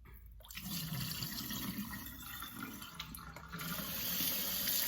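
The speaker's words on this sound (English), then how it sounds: "Just stir it up so all this grain can surface up top." Grits are stirred by hand in a bowl of rinse water, faint swishing and sloshing with soft watery gurgles, a brief tap-like splash at the start, no speech.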